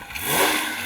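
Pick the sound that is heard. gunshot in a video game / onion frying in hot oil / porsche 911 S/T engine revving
porsche 911 S/T engine revving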